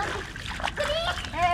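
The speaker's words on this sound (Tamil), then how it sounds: "இந்த பக்கம் அருவி மாதிரி வாய்க்கால் ஒன்று போயிட்டு இருக்கு தண்ணி" Rainwater rushing like a small waterfall through a garden channel after a sudden downpour, a continuous splashing gurgle heard close, with voices talking over it.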